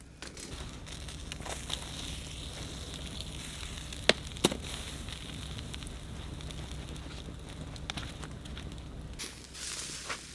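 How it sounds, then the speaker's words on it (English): Meat sears in a hot pan with a steady, even sizzling hiss and a few sharp pops and crackles. "And we just let it go till it's seared."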